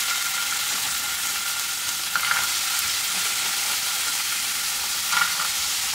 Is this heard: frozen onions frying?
yes